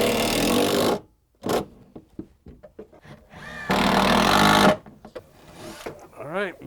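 A power drill whirs in two strong bursts, each about a second long, driving Kreg pocket screws into wood, with clicks and handling noises between and a brief whining tone at the end.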